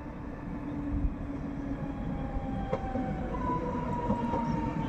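Passenger train running through Katowice, Poland, heard as a steady rolling rumble of wheels and carriages with faint tonal squeals and brief clanks, continuous and fairly close throughout.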